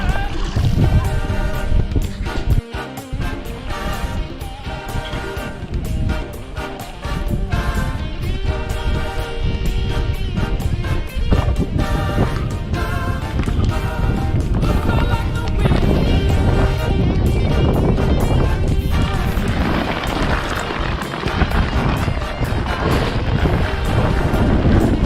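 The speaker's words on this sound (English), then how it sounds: "It's stormy, rainy, windy, but we're doing it." Strong wind buffets a fishing boat in stormy, rainy weather during bass fishing, a loud, constant roar with gusty surges and rumbling across the whole stretch, no voices standing out.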